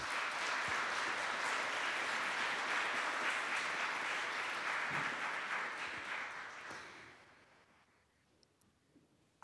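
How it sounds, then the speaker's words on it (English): A symposium audience at Harvard Divinity School breaks into sustained applause, a broad wash of many hands clapping that holds steady for several seconds, then fades gradually to near silence. "Could we please offer them a round of applause for helping us put this together?"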